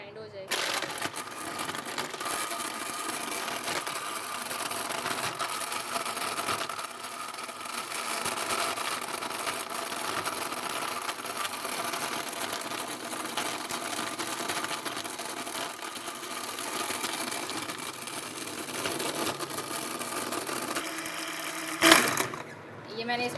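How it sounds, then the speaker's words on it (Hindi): A blender crushes ice for a red mint margarita, giving a steady grinding whir that runs for over twenty seconds, with a small clunk near the end. "आपने इसको तब तक ब्लेंड करना है जब तक बर्फ़ की जो आवाज़ है वो आना बंद ना हो जाए"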